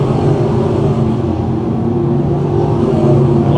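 Loud, close engine roar of 602 crate sprint cars at speed on a speedway track, a continuous droning rumble with no break.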